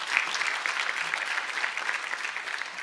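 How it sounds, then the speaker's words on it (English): An audience at a ceremonial opening and high-level panel on population and climate change applauds the Minister, producing steady, dense clapping that holds evenly at moderate loudness for the whole stretch. "So please give Minister a clap."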